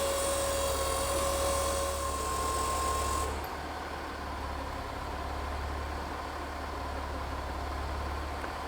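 A Wynn's Transerve 4 transmission oil exchange machine runs with a steady mechanical hum and whine while pumping fluid through a vehicle's gearbox and torque converter; a high tonal layer cuts off partway and the motor drone continues.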